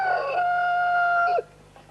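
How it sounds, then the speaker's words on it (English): A rooster gives a single clear, loud crow lasting over a second, with a strong sustained tone that cuts off abruptly into quiet. "The rooster crowing, yes."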